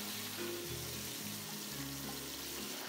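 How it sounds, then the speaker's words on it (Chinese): Pixian chili bean paste and hotpot base are stir-fried in melted lard, giving a steady, close frying hiss with a low background hum throughout, no talk. "不停地翻炒，一直把火锅底料炒开，豆瓣酱炒出辣椒红油"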